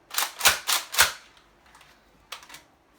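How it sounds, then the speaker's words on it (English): A Nerf toy blaster is slam-fired, the trigger held while it is cocked repeatedly: four quick sharp plastic clacks in a row, a pause, then two more snaps, close and loud with no talking. "You just keep the trigger down and you keep pulling and you keep cocking it."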